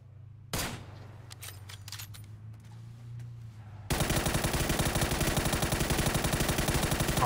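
Video game gunfire, a single sharp shot and scattered clicks, then a sudden loud, sustained stream of rapid automatic fire close up.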